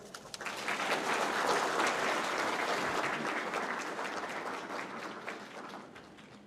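Audience applause fills a formal Chinese National Day celebration hall in the Maldives, a steady, dense wash of many hands clapping at full strength throughout, easing slightly toward the end.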